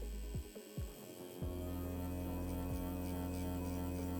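A tattoo machine hums steadily as colour is packed into skin, a close, even electric buzz with a few brief starts and stops before it settles into one continuous drone.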